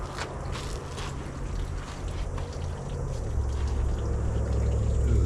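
Water runs steadily into the cooling system of a 1950 Dodge Meadowbrook, a continuous rushing, gurgling flow that grows slightly louder toward the end, with no talking.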